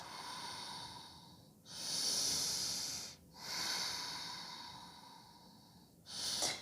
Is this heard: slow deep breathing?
yes